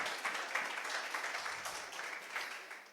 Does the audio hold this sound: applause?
yes